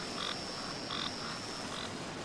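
A frog croaks in short repeated bursts, three calls evenly spaced over a steady hiss of background noise with a faint continuous high whine.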